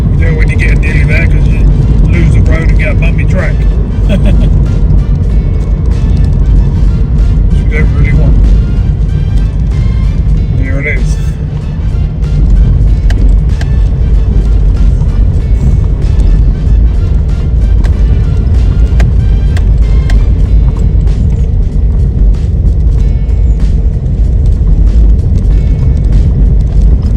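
Car jolting along a bumpy track toward a river fishing spot in the Norfolk Broads, a loud continuous interior rumble with knocks and rattles over the engine, and a voice talking over it.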